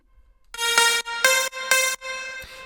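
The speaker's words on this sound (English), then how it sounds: "It's a plucky sound with some attack." A bright, plucky synth with a sharp attack plays four short notes for an EDM drop, each striking hard and decaying quickly, heard alone and clean.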